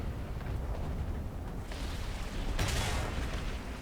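Bombs burst near a tank in the War Thunder video game as heavy rumbling explosions, with a broad roaring blast swelling over the steady grinding din of the battle.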